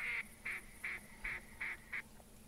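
Six evenly spaced duck quacks ring out in The Hunter Classic hunting game, fairly loud and close in a steady rhythm against a faint ambient background with no talking.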